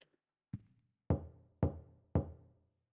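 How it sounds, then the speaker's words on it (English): Knocking on a door inside a video game: four hollow, resonant knocks, the first softer and the last three firmer and evenly spaced about half a second apart, each ringing out briefly in an otherwise quiet room with no voices. "Oh no, my door is being knocked."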